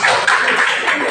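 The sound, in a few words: clapping for a presentation group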